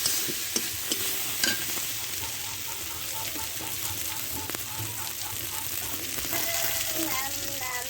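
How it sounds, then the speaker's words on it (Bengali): Egg curry masala of spices being stirred and fried in a pan for a village-style egg dish, continuous sizzling with repeated spatula scrapes and knocks close up, no one talking. "এভাবে আমি নেড়ে ছেড়ে নেব"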